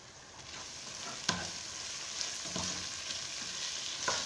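Garam masala and coriander powder being stirred into kabsa frying in a pan: a steady hissing sizzle broken by a few distinct spoon scrapes, with no talking.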